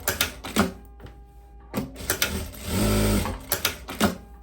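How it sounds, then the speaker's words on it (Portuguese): A sewing machine stitches a viscose long-dress lining in quick bursts of rapid mechanical chatter separated by short pauses, one longer continuous run in the middle, close and clear with no talk. "Vou passar uma costurinha tombando pro lado do forro."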